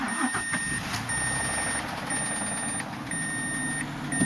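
The engine of a 2005 Mazda 6 idles with a fast, steady mechanical ticking, heard close up under the open hood. A constant engine hum sits beneath the ticking, along with a thin high whine, and no one speaks.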